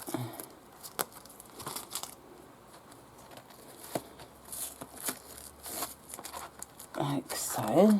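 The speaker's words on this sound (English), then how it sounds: "So I can now remove all the masking tape that I used." Masking tape is peeled off a piece of embroidery, giving intermittent tearing and crinkling bursts at close range, with a voice speaking at the end.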